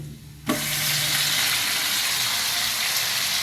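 Shrimp hit hot oil with browned garlic, setting off a sudden loud sizzle that continues as a steady crackling fry with spattering oil.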